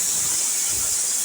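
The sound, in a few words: pressure cooker whistle releasing steam while cooking mutton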